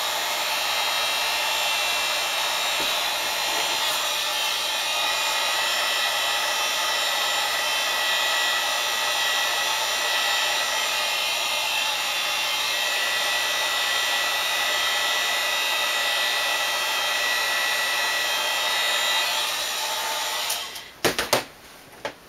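A heat gun blowing hot air onto EVA foam, a loud continuous whooshing blast held for about twenty seconds before it cuts off with a few clicks and handling noises.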